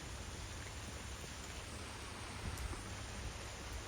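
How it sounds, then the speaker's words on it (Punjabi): Rain begins falling in large drops, a steady, even hiss of water on surfaces across the whole stretch, moderately faint, with no talk. "ਮੀਂਹ ਸ਼ੁਰੂ ਹੋ ਗਿਆ ਬਈ ਆ ਮੋਟੀ ਕਿਣੀ ਪੈ ਰਹੀ ਆ"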